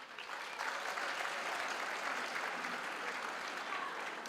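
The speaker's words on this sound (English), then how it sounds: "can we give a big round of applause for Butterworth Choir?" A crowd at a university graduation ceremony applauding steadily and fairly loudly for several seconds, a dense, even wash of clapping with no talk over it.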